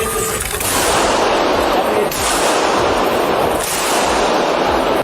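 Rapid gunfire from a woman shooting inside a church, captured in news footage: loud, dense bursts of shots that continue without a break, with crowd noise in the background.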